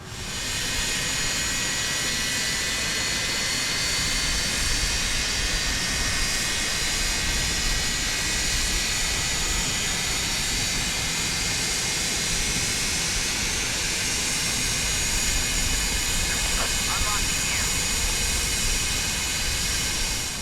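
A constant loud roar from an MD-80 jet engine starting up in Microsoft Flight Simulator, a steady broadband rush with a high whine that holds throughout, close and without talk.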